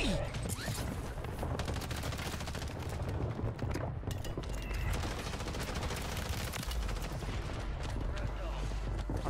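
Heavy gunfire in Call of Duty Warzone on Rebirth Island, continuous overlapping automatic bursts from several directions with a voice talking over the shooting.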